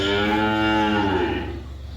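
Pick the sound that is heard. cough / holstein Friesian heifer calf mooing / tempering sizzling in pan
holstein Friesian heifer calf mooing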